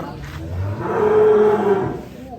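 A large, heavy bull at a cattle market gives one long, loud, nearby moo that swells and fades over about two seconds, with no talking.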